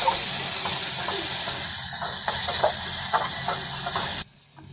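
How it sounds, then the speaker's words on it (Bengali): Ground dried chilli, cumin and white sesame paste fry in a pan for fish broth, a loud, dense sizzling hiss with a few faint stirring knocks, cutting off abruptly near the end. "এবার আমরা সকল মশলাগুলো ভালোভাবে ভেজে নিব।"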